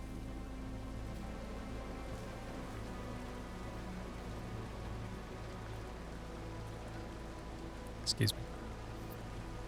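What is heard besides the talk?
rain in a video game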